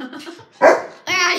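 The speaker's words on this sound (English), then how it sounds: "That was my dog." A dog gives two loud, close barks, one sharp and one longer and more tonal, while a person calls out briefly just before.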